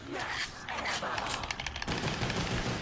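Pistol gunfire in Call of Duty zombies on the Verruckt map, a rapid run of sharp shots in quick succession, loud and close over busy game noise.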